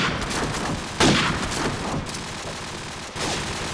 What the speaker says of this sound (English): Lots of shots rattling.